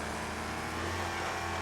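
American muscle car engine in the Wreckfest racing game, a steady loud drone at high revs holding throughout with no talk.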